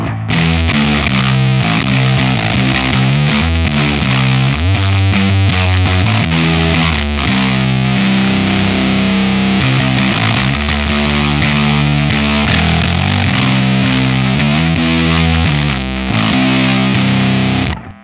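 A heavily distorted electric guitar through a Lantern Manufacturing Sycamore pedal with all knobs at noon plays chords and riffs continuously, loud and saturated throughout, with no talking.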